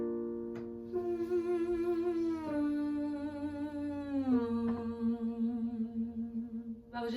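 A singer sustains voiced tones through a straw as a breathing exercise, a steady buzzing hum that steps down in pitch in a few sustained stages, with brief breaths between.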